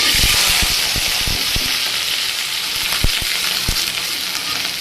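Potatoes fry in hot oil with a loud, dense, continuous sizzle close by, while a few sharp knocks of a spoon or spatula against the pan ring out throughout.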